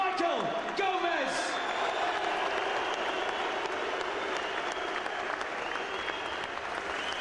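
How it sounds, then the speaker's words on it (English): A boxing crowd at a Commonwealth lightweight title fight applauds Michael Gomez, a broad wash of clapping and crowd noise sitting under a commentator's voice and brief arena sounds. "A round of applause for the gallant Michael Gomez."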